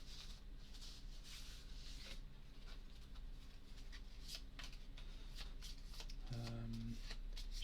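Cards for the Arkham Horror card game being shuffled close up, a run of soft riffling and flicking bursts repeating over a low steady hum.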